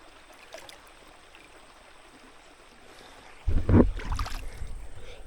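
A yabby pump sucking water and gravel off bedrock while gold prospecting, starting as quiet outdoor ambience before a sudden loud gurgling, slurping rush of water that surges and then tapers.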